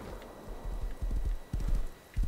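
Horse hooves clip-clopping in the survival game Rust, a few quick bursts of hoofbeats at moderate distance, fairly faint, with no talking.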